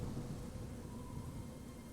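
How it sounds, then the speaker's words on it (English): A thunderstorm in the Xenoblade Chronicles 2 video game rumbles as a low, continuous roll of thunder with a steady wash of rain, fairly quiet and without voices. "It's a storm."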